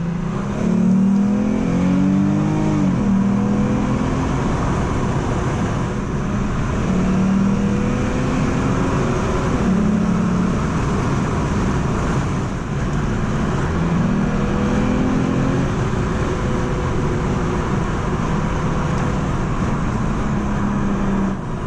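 A 2007 Lexus IS 350 climbs a hill on rural farmland back roads, its engine droning steadily and loudly throughout with rising and falling pitch as it accelerates and shifts, plus constant road and tire noise.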